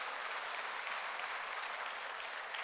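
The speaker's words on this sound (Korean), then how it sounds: "우리 팀 티보 선수에게 한번 격려의 박수 한번 하겠습니다" Congregation in a church Sunday service applauding in encouragement, a steady dense wash of clapping from many hands throughout, fairly close and even in level.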